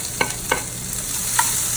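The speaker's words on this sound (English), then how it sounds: "And then I'm just gonna throw all the vegetables in. And that's the sizzle that you want." Vegetables with onions and garlic sizzling in hot olive oil in a pan, a steady close frying hiss with a few soft stirring clicks and scrapes over less than two seconds, no voices.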